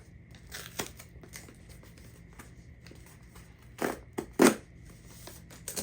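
A few sharp tearing and crinkling bursts of plastic packaging being pulled open, close by, between quieter rustles.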